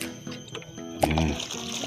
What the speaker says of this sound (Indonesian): Setelah itu akan langsung kita siram ya.